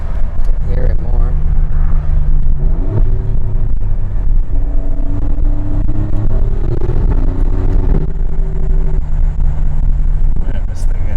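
A 2017 Alfa Romeo Giulia Quadrifoglio engine and exhaust, heard up close as a loud, deep rumble with rising and falling rev tones that step through several pitches, while voices talk over it.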